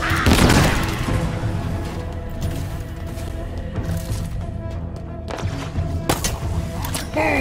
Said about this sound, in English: Down! Grenade!